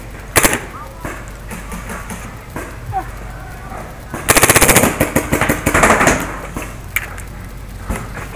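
A First Strike T15 paintball marker firing full auto on a Nam-themed field, loud close bursts of rapid shots with quieter single pops and gaps, and people talking in between.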